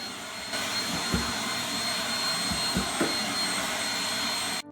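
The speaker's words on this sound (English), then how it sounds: "Don't you just love the sound of a good vacuum? Just listen to it." A vacuum cleaner switches on and runs with a steady whooshing whine, a few bumps as it moves, then shuts off.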